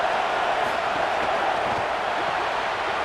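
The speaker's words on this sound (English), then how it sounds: "Listen to the crowd energy here in the early going." Steady roar of a stadium crowd in the College Football 27 video game during Western Michigan vs Michigan, a dense, continuous wash of crowd noise at even loudness.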